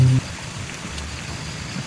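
Steady rain hisses in a broad, even wash with no voices, after a short low thump at the very start.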